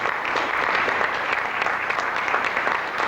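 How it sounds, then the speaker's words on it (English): Audience applause at a talk, a brief, loud burst of many hands clapping together in a dense, even wash of sound. "Give them a round of applause."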